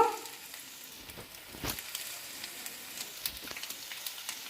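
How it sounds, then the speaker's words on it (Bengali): Potatoes fry in oil in a pan for Bengali aloo dum, giving a soft, continuous sizzle with light crackles and faint stirring, fairly quiet and close, with no talking. "আলুগুলোকে একটু ভালো করে ভেজে নিতে হবে।"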